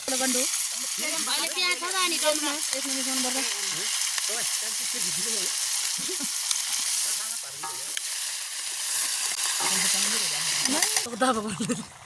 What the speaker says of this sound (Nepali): तरकारी रेडी भयो तरकारी पाक्दैछ